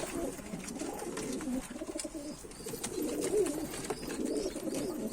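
Pigeons coo softly in low, throaty rolls, several overlapping calls continuing over faint outdoor background noise.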